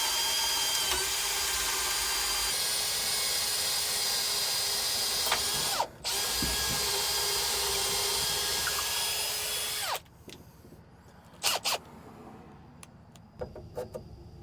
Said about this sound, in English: drill a 1/2 inch hole on either side, top and bottom of the arm here